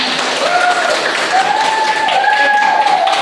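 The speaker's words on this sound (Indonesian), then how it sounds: "Oke, tepuk tangan untuk kita semua." Classroom applause from students after project presentations, a dense patter of claps filling the room for about three seconds with a few brief tonal squeaks over the top.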